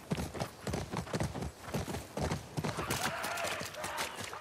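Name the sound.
horses' hooves clip-clopping in video game The Last of Us Part II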